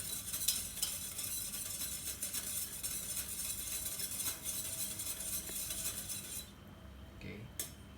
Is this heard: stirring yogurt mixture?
yes